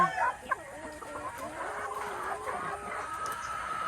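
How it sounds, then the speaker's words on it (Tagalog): Rhode Island Red roosters and hens clucking steadily and close by, a busy farmyard chorus of overlapping calls with a sharper burst near the start. "Ito yung mga lalaking chicken, mga lalaking Rhode Island."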